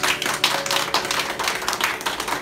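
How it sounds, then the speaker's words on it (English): Audience clapping for kindergarten contestants at a school seasons presentation, a steady patter of many hands at moderate level with scattered louder claps, no talking over it. "Give a big round of applause for our contestants"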